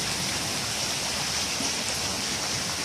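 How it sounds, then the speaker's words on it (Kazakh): Hail from a storm in Kyzyl-Zhol, Batken, pours down in a dense, steady hiss of small impacts, continuous and fairly loud with no gaps, blending into the wash of rain. "Мөндүрді қарағала."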